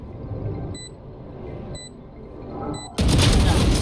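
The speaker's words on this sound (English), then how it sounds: "Grenade." In Valorant, a grenade goes off in a sudden loud, broadband burst after several seconds of game ambience punctuated by three short electronic beeps.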